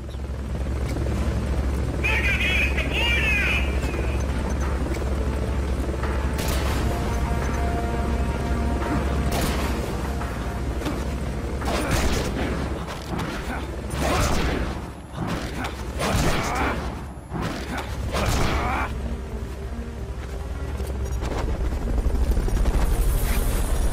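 Helicopter engine and rotor drone from the video game Metal Gear Solid Peace Walker runs steadily throughout, loud and constant, with intermittent game impacts and whooshes layered on top and some talk partly over it.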